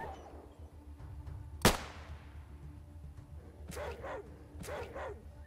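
Dog Meat, the dog companion in the game ATOM RPG, barks twice in quick succession near the end, after a single sharp crack earlier, over a low steady background hum.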